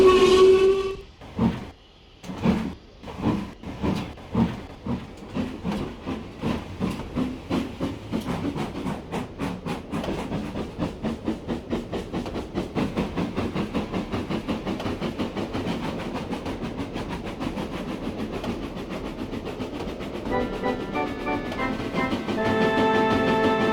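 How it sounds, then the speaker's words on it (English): Green steam locomotive chuffing in steady rhythmic puffs that quicken as it pulls away, with a short whistle at the start and hissing steam throughout, loud and close. "So Henry puffed onto the terminus where he had a rest"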